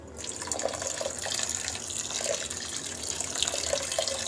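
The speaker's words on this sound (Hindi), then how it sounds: "अब इसके अंदर पानी डाल देंगे।" Water pours steadily into a cooking pot of soaked moong dal seasoned with salt and turmeric, a continuous close splashing rush with small bubbling accents throughout, and no speech.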